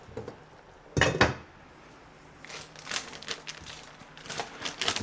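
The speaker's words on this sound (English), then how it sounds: "So I'll put the lid on." Metal clatters as a lid is set onto a pot of noodles in a home kitchen, a loud clank followed by lighter scattered clinks and handling sounds.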